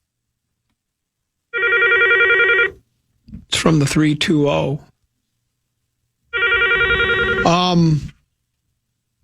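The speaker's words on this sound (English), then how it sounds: "The same thing with the phone again." An office telephone ringing at a radio talk show, two bursts of a bright electronic ring separated by a pause, with someone speaking loudly in between and over the end of the second ring.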